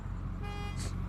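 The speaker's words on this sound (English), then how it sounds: "It's like he heard the other person honk, and he's like, oh, time to honk." A car horn from a road-rage clip gives one brief, steady toot over a low rumbling background, and no one speaks.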